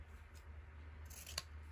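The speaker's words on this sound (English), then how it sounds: "I should get my good scissors" Scissors snipping through fabric scraps and hemp for junk journal clusters, a single faint crisp cut over a low background hum.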